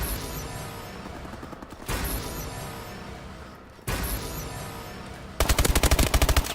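Rapid gunfire, likely from a shooting video game, comes in bursts of loud sustained shots, with a sharp rattling machine-gun volley near the end.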